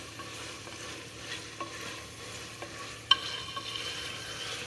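Beans and vegetables stirred and frying in a pan for a methi pulao, a steady soft sizzle with scraping stir strokes and one sharp utensil tap near the end.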